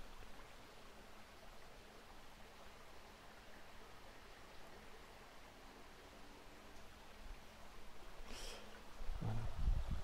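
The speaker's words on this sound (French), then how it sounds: "Je vous montre avec le décor du ruisseau." Faint, even rush of flowing water, continuous and unbroken, with a brief rustle near the end.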